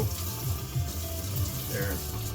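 Water pours from a kettle or tap into a container of instant noodles, a short, close splashing trickle heard on its own.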